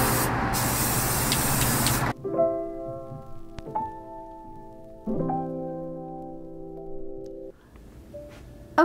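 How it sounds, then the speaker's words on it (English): A sustained hiss of aerosol spray paint at the start, then a quiet hum of tones and a few clicks, with a short burst at the end. "this is a spray paint that we're gonna be using"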